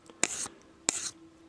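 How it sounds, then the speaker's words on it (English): A 600-grit sanding block worked across a metal blade, three raspy strokes in an even rhythm, close and fairly quiet. "keeping that sanding block nice and flat with the tool."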